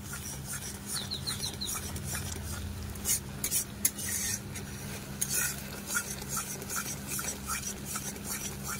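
A spoon scrapes and stirs thick mango pulp as it cooks down in a pan for aamsotto, with soft irregular scraping and light clinks over a faint simmer, close by and without talk.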